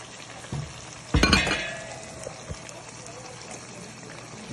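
Tomato stew ingredients being stirred in a pot, giving a short burst of clinking and sizzling frying partway through, over steady low background noise.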